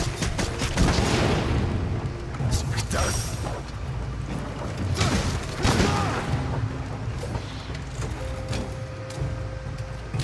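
Gunlance wyvern stake cannon firing in Monster Hunter Rise, a series of heavy booming blasts with mechanical clanks and scattered explosive bursts over a steady rumbling game background.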